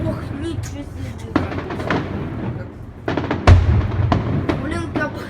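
Fireworks in a salute display crackle and pop in dense clusters of sharp bangs, a heavier thump midway, loud and close, with people talking over them.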